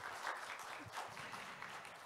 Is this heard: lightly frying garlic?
no